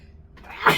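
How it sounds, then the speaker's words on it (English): A person lets out a single short, sharp sneeze at the very end after a brief quiet inhale, close and fairly loud. "I'm gonna sneeze,"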